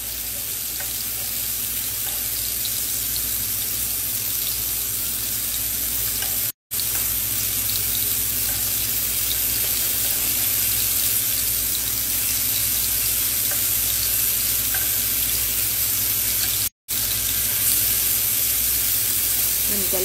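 Chicken pieces fry in a pan over lower-than-medium heat, giving a loud, steady, close sizzle that runs on continuously, broken only by two momentary cutoffs, with no talk over it.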